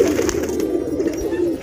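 Domestic pigeons at their nest with eggs in a home coo softly and continuously, close to the listener, with no talking over them.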